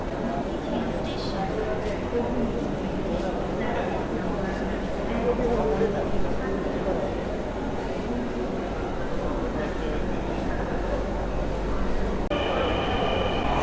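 Dhaka metro rail train at Dhaka University station, a steady low rumble of the carriage and platform ambience running throughout, with people talking faintly in the background and a brief higher tone near the end.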